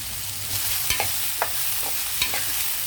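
Broad beans and potato pieces being stirred in a frying pan, with a few light spoon scrapes and clicks over a soft, steady sizzle; no talking.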